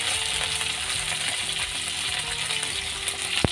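Crabs fry in a pan with a steady, close sizzle and crackle throughout, and a sharp metallic clink near the end.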